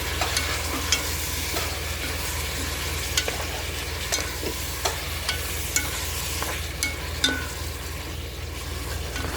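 Eggplant sizzles steadily in a hot pan for an Ilocano inabraw, with repeated scraping stir strokes clicking against the pan at irregular intervals.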